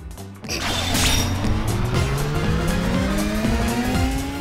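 Cars racing in the video game Ape Escape 3, a loud rising engine roar with tire squeal, sustained close up for the whole moment.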